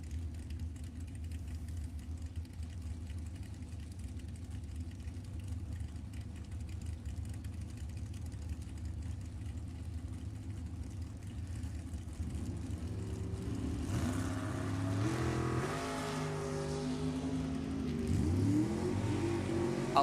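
A 1938 Roadster and a Worthy Chassis dragster sit idling at a drag strip, then launch together at about 14 seconds. Their engines roar up through rising revs and stay loud and near until the clip ends.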